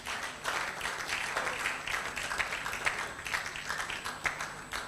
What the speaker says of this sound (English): please give a round of applause to everybody that have graced the stage before me